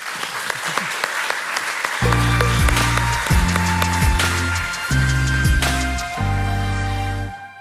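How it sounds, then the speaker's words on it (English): An audience at an academic year opening ceremony claps for guests on stage. Dense applause rings out alone at first, then continues under loud stage music that starts up and carries through to the end. "A round of applause for our current guests on stage"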